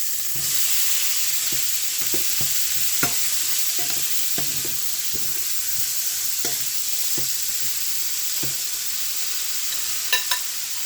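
Cabbage fries with smoked sausage in a pan, a steady close sizzle broken by irregular scraping clicks as a utensil stirs, with a few sharper metallic taps near the end.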